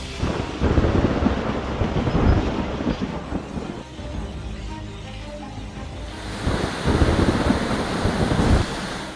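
Heavy monsoon rain pours down in Gujarat as a loud, steady broadband roar with low rumbling underneath. It eases slightly midway, then swells back to full strength.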